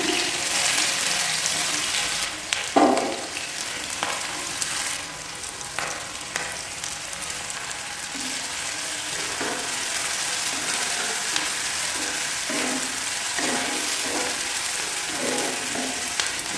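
Cumin, green chillies and onion frying in oil for a sweet potato curry give a steady, close sizzle throughout, with occasional scraping stirs and no talk.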